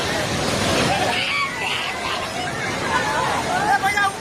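A flooding river in Nepal rushes over stones in a steady, loud broadband roar that fills the whole clip, with excited voices talking over the torrent.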